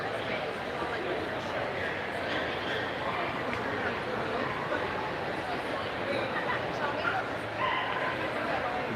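A dog barks, yips and whimpers amid a constant noisy background at an indoor pet expo, with people talking throughout.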